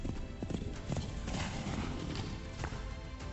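Horse hooves clip-clop in a steady rhythm, close and clear, with a faint whinny over a dense background bed.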